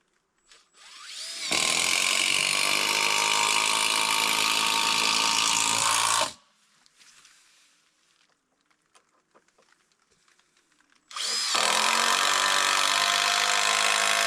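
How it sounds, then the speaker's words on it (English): Two long bursts of a power screwdriver or drill driving screws into deck boards at an off-grid build in Alaska, each whine running several seconds, close and loud, separated by quiet with faint handling noises. "Not putting a lot of screws in them since I'm just screwing them so they're staying in place."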